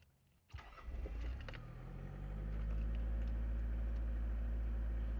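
A 1992 turbo diesel engine cranks and catches, then settles into a loud, steady idle that builds and holds a deep, constant drone close by.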